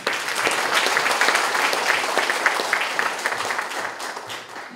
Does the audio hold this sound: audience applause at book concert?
yes